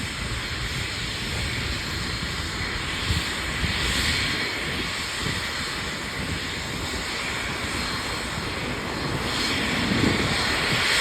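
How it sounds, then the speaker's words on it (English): A jet airplane roars on takeoff near the airport at 120th Street and Crenshaw Boulevard in Hawthorne, with loud, steady engine noise and broad hissing thrust that stay constant and fill the entire stretch. "Alright, the plane's gonna take off."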